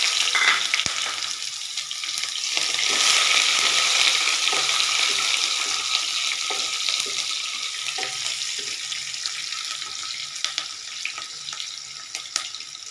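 Onions sizzle steadily in hot oil for tomato rice, a loud, dense hiss that swells and then settles, with occasional stirring clicks and no talk.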